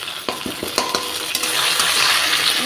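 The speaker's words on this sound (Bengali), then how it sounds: "এই যে অল্প পরিমাণে আদা রসুন বাটা দেবো" Ginger garlic paste hits hot oil with bay leaf, cumin and chilli; a few sharp utensil clinks and stirring scrapes open, then a bright, rising sizzle settles into a steady fry.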